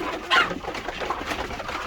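A hen clucks close by on a small egg farm, one short loud call near the start followed by softer murmuring clucks and faint background bird sounds.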